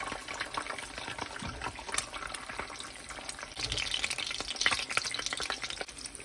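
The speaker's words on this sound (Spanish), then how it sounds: "Pues ahorita vamos a freír nuestros huevos." Eggs frying in a pan used earlier for tostadas, a faint steady crackle and sizzle with occasional sharper pops, heard alone at low level throughout.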